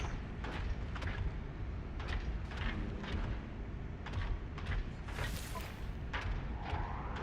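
Fireworks in the video game No Man's Sky, a steady crackle of sharp bursts and booms spread through a continuous noisy wash, with one brighter fizzing burst near the end.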